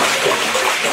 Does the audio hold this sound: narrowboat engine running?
no